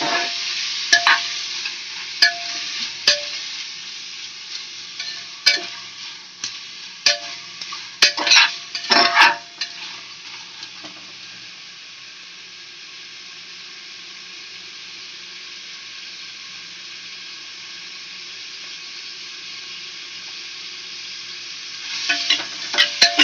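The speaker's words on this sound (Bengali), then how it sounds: "বাটারটা মেল্ট হয়ে গেছে, এবার আমরা চিকেনটা দিয়ে দেবো। চিকেনটা একটু ভালো করে নাড়াচাড়া করে নেবো।" Chicken pieces being stirred in melted butter in a pan, with a close sizzle and a run of spatula scrapes and knocks early on, then a quieter stretch of low frying before the stirring resumes near the end.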